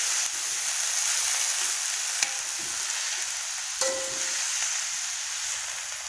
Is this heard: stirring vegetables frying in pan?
yes